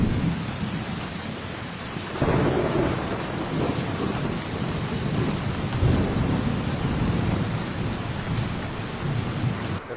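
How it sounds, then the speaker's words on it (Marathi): Heavy rain pours down in a steady, loud roar, with rolling thunder swelling and rumbling through it; no voices. "फुल जोरात असा पाऊस चालू आहे बघू शकता तुम्ही"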